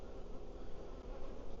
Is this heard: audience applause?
no